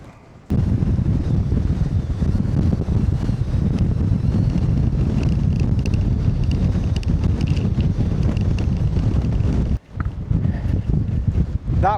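Strong wind buffets a wild camp at a mountain tarn during a storm, roaring steadily and loudly across the microphone, with a brief lull near the end before the gusts return.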